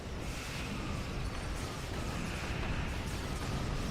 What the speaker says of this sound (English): there are just so many explosions. Can't even see what's going on. Explosions everywhere.